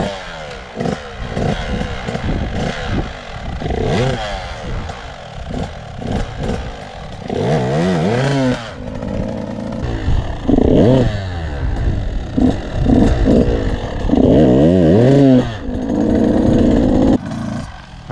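A motorcycle engine revs loudly in repeated bursts during slow wheelie practice, pitch climbing and dropping with clattering, rough mechanical noise between the throttle blips.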